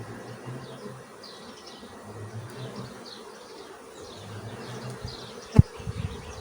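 Honeybees hum in a low, steady drone around an opened hive during an expansion check, close and continuous, with a sharp knock near the end.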